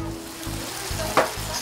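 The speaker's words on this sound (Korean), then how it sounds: "돼지고기 지글지글 볶아서 푸짐하게 준비했으니" Pork stir-fries in a hot pan with a steady, close sizzle and a brief scrape of stirring partway through.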